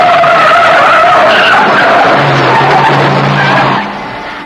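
Loud, sustained tyre screech of a speeding car skidding just before striking pedestrians, a dramatized effect that squeals for several seconds, then trails off and fades.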